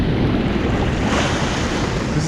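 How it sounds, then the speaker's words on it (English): Sea swell and small waves rolling in on a calm winter day, heard as a steady, loud wash of surf mixed with gusty wind buffeting the microphone, with no voices. "You can see the swell rolling in here."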